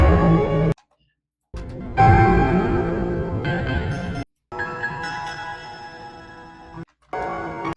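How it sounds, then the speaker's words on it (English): A choppy 4-bar loop built from chopped sample fragments, with abrupt gaps of silence between the pieces and a repeating stuttering feel. "I took a bunch of pieces from that, chopped them up, and I created this little 4-bar loop"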